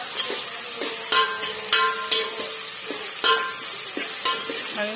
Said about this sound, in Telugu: ఇవి చక్కగా ఫ్రై అవ్వనివ్వాలి